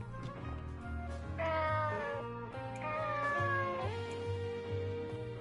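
Cat meowing in the video game Nights of Azure, a few drawn-out, rising and falling meows heard clearly over steady background music.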